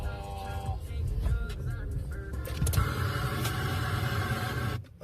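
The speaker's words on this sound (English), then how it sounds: "So he's driving here and he actually damages his car whilst he's with Luxy." A video game car drives with a busy, roaring engine and scattered knocks and scrapes as it takes damage, loud and continuous with a sharp jolt near the end.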